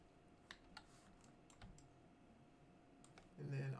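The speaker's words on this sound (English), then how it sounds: "Hit 1 on the keyboard." Computer keyboard key presses during 3D modelling work: a handful of sparse, distinct taps spaced irregularly, quiet and close, followed by a brief burst of speech at the end.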